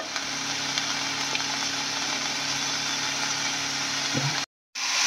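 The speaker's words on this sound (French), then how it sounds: "Donc là, on fait revenir nos légumes." Grated carrots and other vegetables sauté in a hot pan, giving a steady, even sizzle that holds throughout before cutting out briefly near the end.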